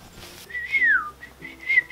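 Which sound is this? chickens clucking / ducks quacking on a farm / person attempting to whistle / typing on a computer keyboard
person attempting to whistle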